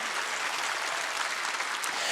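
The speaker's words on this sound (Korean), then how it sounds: "박수 한번 더 했어요" A church congregation at a Wednesday worship service claps in a dense, sustained burst of applause filling the room for a couple of seconds.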